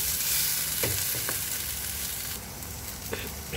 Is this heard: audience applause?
no